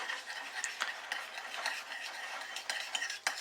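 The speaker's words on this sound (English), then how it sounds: "Mix the two together." A spoon stirs mint sauce into pakora sauce in a bowl, giving a steady run of soft wet scraping and light clinking strokes, close and fairly quiet, with no talking.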